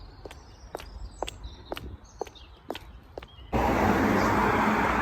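Footsteps of a person walking outdoors on a quiet early morning, about seven steady, even steps close by, before a loud continuous rush of broadband noise takes over.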